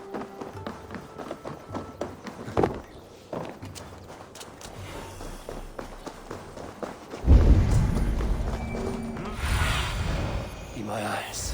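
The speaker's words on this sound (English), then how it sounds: "I will ready the horses." Horse hooves clip-clop and thud in the video game Assassin's Creed Valhalla, irregular taps and footfalls at moderate volume, followed by a louder burst of movement, with in-game voices talking.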